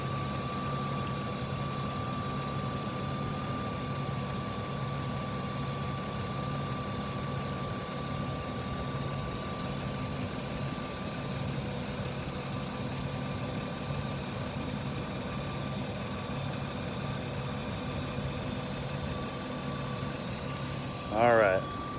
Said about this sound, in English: I'm gonna let you listen here for a moment to the engine running.